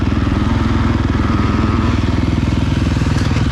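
A 2023 KTM motocross bike revs hard and close with a steady pulsing engine note, its quickshifter clicking through a gear change without the throttle letting off.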